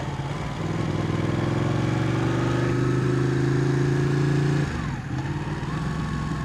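Ducati 899 Panigale motorcycle ridden through city traffic, its engine a steady, close droning hum at a constant pace that briefly dips and eases before settling again.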